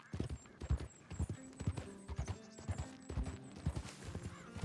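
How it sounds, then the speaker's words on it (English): Horse hooves clip-clop at a steady walking rhythm in Red Dead Redemption 2, close and distinct, with a soft whinny and other game sounds behind them. "Like, is Buell a particularly special horse"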